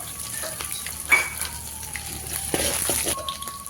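Mustard seeds and chillies spluttering in hot oil while tempering for Tamil coconut rice, a steady close sizzle with scattered small pops and crackles, one sharper burst near the start.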